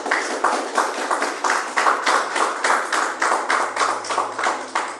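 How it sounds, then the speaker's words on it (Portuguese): Church congregation clapping in a steady rhythmic beat, loud and continuous, with a low hum in the background. "palmas para Jesus"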